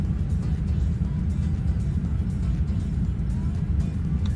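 A Boeing 787 in Microsoft Flight Simulator rumbles with its speed brakes deployed, a dense, steady low-frequency roar that holds at an even level throughout.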